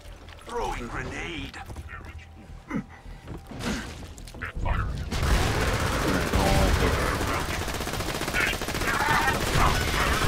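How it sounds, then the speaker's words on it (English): Rapid fire-element gunfire in Borderlands 2, starting as scattered shots and swelling into a loud, continuous barrage with crackling bursts, while a voice talks over the opening seconds. "I'm using a fire weapon."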